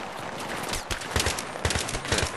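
Rapid bursts of automatic gunfire from the Battlefield 3 video game, close and loud, cracking in quick uneven volleys with no talk.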